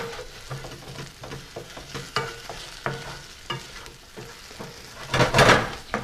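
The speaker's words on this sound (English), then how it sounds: "I want to stir that around to incorporate." Vegetables for an aqua pazza poached snapper dish sizzle in a pan while a utensil stirs them, giving soft scraping strokes and a brief louder burst of frying near the end, with no talk.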